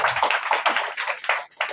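Hands clap in praise during an Odia Christian worship service. The claps come in a fast, steady run that is loud and close, with a brief gap near the end.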